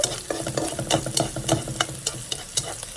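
Rice noodle soup with pork and seafood being stirred in a pot, repeated scraping and clinking strokes over a bubbling, sizzling background, close and fairly loud.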